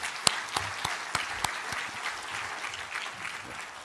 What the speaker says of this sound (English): Please join me in giving a hand welcoming him.